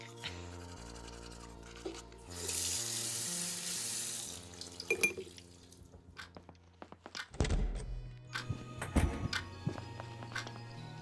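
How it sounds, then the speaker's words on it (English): Shower water running in the video game Look Outside, a steady hiss of spraying water for a couple of seconds over soft game music, followed by scattered thuds and clunks. "Shower for about half an hour."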